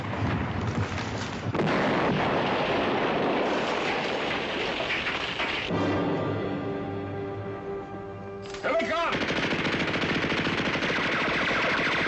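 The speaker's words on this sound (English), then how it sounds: "Mortar, get down." Mortar and gunfire in a TV war drama: dense, loud bursts of rapid machine-gun fire and booming blasts close by, broken by a brief ringing tonal lull before the shooting resumes.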